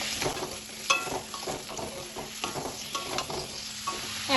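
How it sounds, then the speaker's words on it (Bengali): Pumpkin pieces are stirred and fried in hot oil in a pan, cooked for kumror chokka, with a steady sizzle and irregular scraping stirs running throughout at close range. "কুমড়োটাও তেলের সাথে ভালোভাবে নাড়াচাড়া করে নেব"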